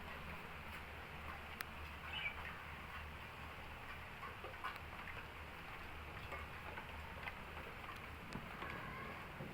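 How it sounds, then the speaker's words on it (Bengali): Steady rain falling outdoors during the Bengali month of Boishakh, a broad continuous patter and hiss at even strength with a low rumble beneath it, and no voices. "অবশেষে বৃষ্টি এখন পড়তেছে"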